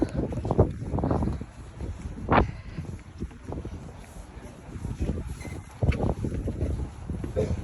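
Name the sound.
wind blowing outdoors in Skagway, Alaska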